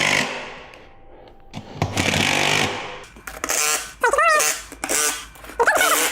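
Repeated bursts from a power tool driving beadlock bolts on a Raceline wheel, working back and forth across the ring. Loud, rattling bursts are separated by short pauses, with some squeaky tones in between.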